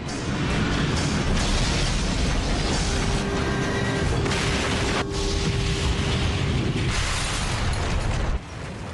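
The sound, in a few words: airliner crashing into the ground, American Airlines Flight 587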